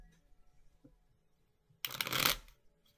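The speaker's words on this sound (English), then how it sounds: "I feel like I've been shuffling for, like, a really long time." A short, loud burst of cards being riffle-shuffled, rising suddenly after near silence and ending within about a second.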